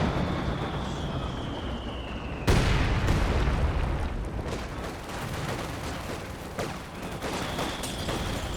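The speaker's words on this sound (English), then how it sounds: "Seems like the Allies really like that time fuse ability on the heavy mortar" Heavy mortar time-fuse shells bursting in Company of Heroes 2, one sharp loud blast followed by a rumbling barrage of smaller explosions and crackling gunfire in a busy battle.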